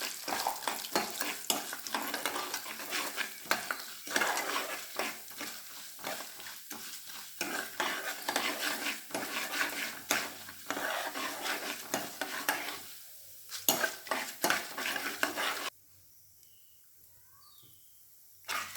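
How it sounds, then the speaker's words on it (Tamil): Chana dal (Bengal gram) and urad dal frying and being stirred in a pan for tomato chutney, a dense close sizzle broken by scraping strokes of a spoon, fading near the end to quieter crackling. "கடலைப்பருப்பு, நல்லா ப்ரௌன் கலரில் வதக்கணும்."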